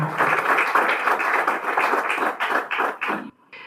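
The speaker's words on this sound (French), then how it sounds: "Applaudissons alors très très fort pour cet instant." Applause from a meeting audience after a guide is adopted at a workshop closing session, fairly close, brisk clapping that holds steady, then breaks up and stops.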